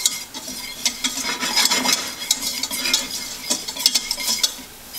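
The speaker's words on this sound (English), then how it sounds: "I've got a half a stick of butter in there. I've got 6 tablespoons of flour. And we're just gonna make a quick roux with this." Butter and flour roux cooking in a pan for homemade gravy, with a gentle sizzle and the steady scrape and clink of a utensil stirring, close up and without talk.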